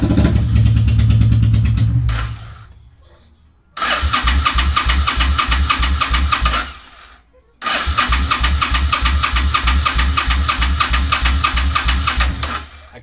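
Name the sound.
VL800 motorcycle engine being started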